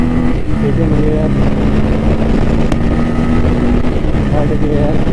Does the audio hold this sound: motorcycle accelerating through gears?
yes